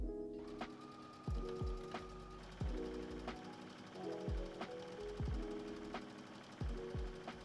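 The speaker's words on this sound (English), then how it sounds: "I'm just going to sew this all the way around." A sewing machine hems the folded edge of loungewear shorts, a close, steady mechanical whir broken by repeated heavy clunks as the fabric is turned, with no talking.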